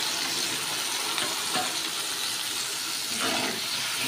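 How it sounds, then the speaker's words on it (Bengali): Masala spices frying in oil in a pan with a little water, giving a steady loud sizzle and hiss with occasional scrapes of stirring, close by and with no talking. "জলটাকে দিয়ে ভালো করে মশলাটা কষিয়ে নেব।"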